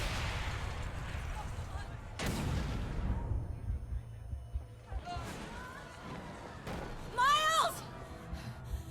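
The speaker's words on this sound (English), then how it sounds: "Explosion go boom." A loud explosion in the Spider-Man PS4 video game bursts out about two seconds in and rumbles away, followed later by shouting voices and sharp, whistling game effects over a continuous low background.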